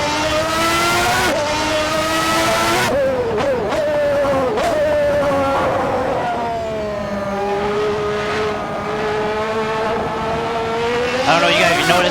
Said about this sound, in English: downshift is really sharp